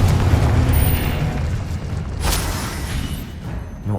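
A Confringo explosion spell detonates in Hogwarts Legacy, a loud rumbling boom with deep low-end weight, a sharp crack near the middle, then a fading roar.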